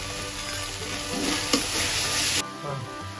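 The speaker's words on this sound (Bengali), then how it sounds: "এবার পরিমাণ মতো হলুদ দিয়ে দেব" Turmeric going into a pan of sizzling ground cumin, ginger and garlic paste with a little water, a steady close frying hiss with stirring scrapes, a brief sharp crackle midway, then a softer sizzle as the spice mixture settles.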